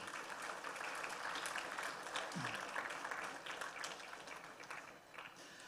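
Steady applause from a graduation audience at a Grade 11 ceremony, many hands clapping evenly throughout with some murmuring mixed in, at a moderate, fairly distant level.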